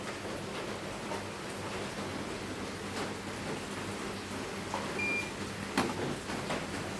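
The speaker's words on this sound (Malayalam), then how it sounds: "നല്ല മഴയാണ് കേട്ടോ" Heavy rain falling steadily outdoors, a constant dense wash of noise at moderate level with a few faint knocks and clicks scattered through it.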